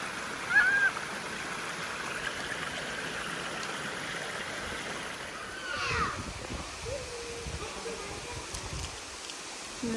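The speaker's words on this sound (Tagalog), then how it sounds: "Ganda ng waterfalls, guys." A North Queensland waterfall rushes as a steady, moderately quiet wash of falling water, with a brief splash near the start and a person talking over it in places.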